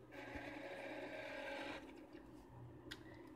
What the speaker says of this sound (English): It's got a noisy disk drive.